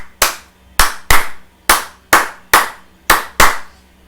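Eight sharp hand claps ring out alone in an uneven rhythm, close and loud, each with a short decay.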